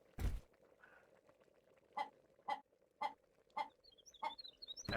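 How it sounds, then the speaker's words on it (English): Chickens cluck in a faint, regular series of short, sharp calls about every half second, one louder thump at the start and a few soft chirps near the end. "We got chickens down there."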